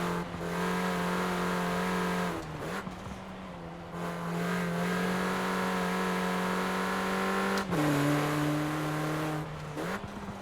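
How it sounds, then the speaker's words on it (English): A turbocharged Mini Cooper John Cooper Works in Forza Horizon 4 revs hard through the gears, with a steady buzzing engine tone that drops at each of several quick shifts, continuous and loud with no voices. "Hear that turbo all the time."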